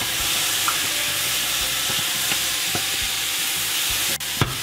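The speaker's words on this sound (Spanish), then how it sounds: "voy a cocinar esta cebollita por un ratito, unos minutos" Chopped onion sizzles steadily in a hot frying pan while a utensil stirs and scrapes it in soft, irregular strokes, with a couple of sharper clinks near the end; no one speaks.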